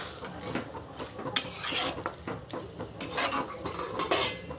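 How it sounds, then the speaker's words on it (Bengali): Chicken is stirred in a pan with a metal utensil for Bengali-style kebabi chicken, producing repeated scraping and clinking strokes over a soft frying sizzle, close and fairly loud. "দু মিনিট মতো হয়ে গেছে আমি আবার একটু নাড়াচাড়া করে দেবো"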